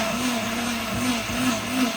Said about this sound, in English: we are literally just gonna put these through a blender and get some puree.